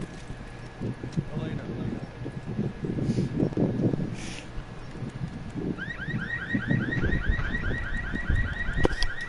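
A car alarm in Resident Evil 6 starts partway through, a loud repeating electronic whoop cycling rapidly over game noise and players' chatter.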